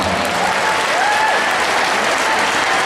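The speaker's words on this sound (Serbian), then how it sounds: "pozdravimo jednim aplauzom" Kindergarten dance groups at a children's dance festival receive a burst of steady, full crowd clapping, dense and continuous throughout with no break.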